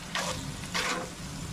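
Spices frying in oil in a pan for a ragout, a soft steady sizzle with two brief louder bursts of hiss, close up and alone without talk.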